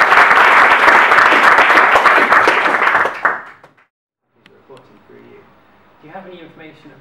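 A round of audience applause at a tech meetup talk, loud and sustained for about three seconds before fading quickly, followed by quiet room tone and faint talk.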